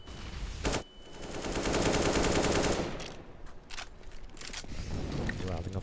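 Bursts of rifle fire in a competitive CS:GO league match, moderately loud and ragged, with a few quieter sharp clicks, all under an excited commentator talking throughout.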